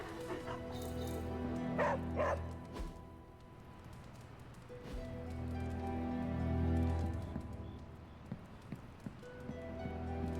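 A dog barks in short bursts in the Midnight Suns video game while exploring the Abbey, with a steady game soundtrack humming underneath.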